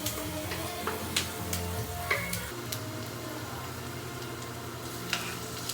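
Spicy Pure Foods corned beef with potatoes and onion frying in a pan, a steady sizzle broken by scraping stir strokes and light clinks, close and moderately loud with no talking.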